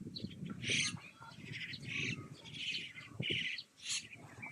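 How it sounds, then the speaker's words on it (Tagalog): Many birds chirping and calling at once, bright overlapping tweets from several directions over a low rustling background. "Dami yung mga ibon sa Maynog."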